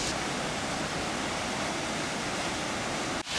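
Marmore waterfall in Umbria, Italy roars as a dense, steady wash of falling water, loud and close, unbroken for the whole stretch with no voices.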